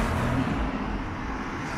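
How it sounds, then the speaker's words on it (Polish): Cars passing by on a road, a continuous close traffic rush with broad tyre and engine noise, fairly faint and steady across the short stretch with no voice. "zagłusza to wiatr, a właściwie samochody przejeżdżające mój głos"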